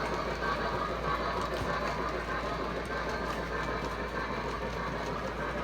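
A Lionel SW7 switcher model train locomotive runs with a steady, low mechanical rumble and whirring drone, continuous and moderately quiet, with no voices heard.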